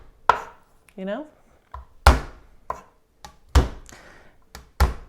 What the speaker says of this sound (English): I'm just going to kind of smash it and rough chop it.